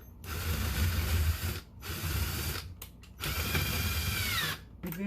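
A screw gun drives screws into a kitchen rollout shelf in several loud whirring bursts separated by short pauses, the motor pitch dropping as each screw seats, up close with no talking.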